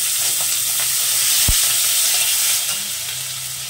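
Cumin seeds, onion, tomato and green chili fry in hot oil, a loud steady hiss with one brief knock from a utensil partway through.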